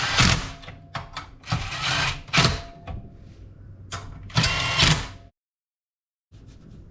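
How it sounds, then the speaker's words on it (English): A tool clicking and ratcheting while tightening clutch bolts on a 2022 Polaris XCR snowmobile fitted with a D&D Racing Rebel kit and ZRP lightweight components. Close, irregular mechanical clicks and bursts come in clusters, then a sudden silence. "Drive it through just so it clicks."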